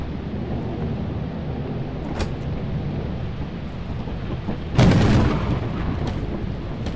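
Video game thunderstorm with a lightning strike: steady rain-like rumble throughout, a brief crack near the middle, then a loud sharp thunderclap followed by a rolling rumble that fades slowly.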